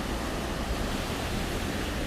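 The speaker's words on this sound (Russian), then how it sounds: "Друзья, вот он, водопад Додотский." The Dodotsky waterfall in Tuva roars in a steady, dense rush of falling water, continuous and even with no voices.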